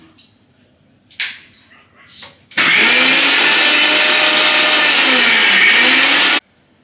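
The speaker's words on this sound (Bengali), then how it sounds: "এখানে ব্লেন্ডারে দিব দিয়ে ব্লেন্ড করে নিব" A kitchen blender whirs loudly and steadily for about four seconds as it purées chopped beetroot, preceded by a few brief clatters and thumps while the jar is loaded.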